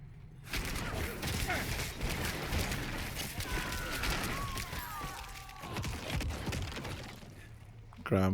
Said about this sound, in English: I am really enjoying the corpse explosion,